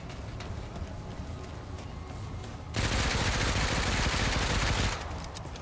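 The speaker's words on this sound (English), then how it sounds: "Shooting at the firing range." Automatic gunfire at a firing range in the game Remnant 2, with a sustained burst of rapid shots that starts abruptly and stops a couple of seconds later, over a quieter game background.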